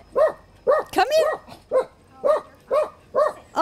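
A ten-year-old dog barking repeatedly in short, evenly spaced woofs with a whimpering whine mixed in near the start, loud and close.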